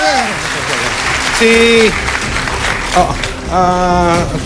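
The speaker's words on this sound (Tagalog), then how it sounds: "Palakpak kung gusto nyo." An audience at a 2016 Philippine presidential debate in Cagayan de Oro City claps and cheers loudly, with a voice calling out over the applause in short bursts.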